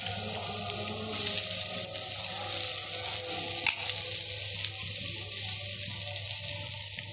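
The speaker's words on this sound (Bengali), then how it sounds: "এখন আমি কড়াইতে পেঁয়াজগুলো দিয়ে দেব।" Onions frying in oil in a kadai (wok) while preparing a Bangla egg and potato ghati, a steady close sizzle that continues without a break, with a brief sharper crackle near the middle.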